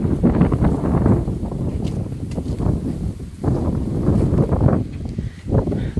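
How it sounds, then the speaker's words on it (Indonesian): Strong wind gusts roar steadily against the microphone outdoors near a village jetty in Malaysia, a low rumbling buffet that swells and dips without pause. "Anginnya kencang loh."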